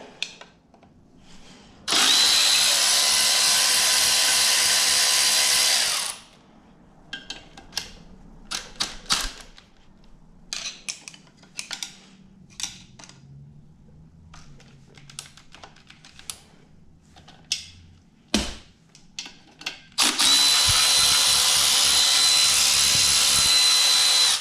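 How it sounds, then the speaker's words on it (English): A Milwaukee power ratchet runs in two loud, sustained whirring bursts while working on a hatch, with scattered clicks and clanks of handling between them. "I love this Milwaukee ratchet, but sometimes it's just not strong enough."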